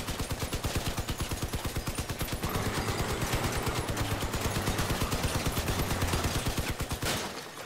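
Rapid sustained gunfire pounds an armored vehicle in the Crossout combat game, a dense metallic rattle of repeated hits that stays loud and continuous before cutting off near the end.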